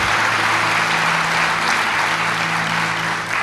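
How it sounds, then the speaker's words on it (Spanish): Church congregation applauding loudly during a sermon, a dense continuous wash of clapping close by with a low steady hum beneath it. "Vamos, fuerte ese aplauso para ellos."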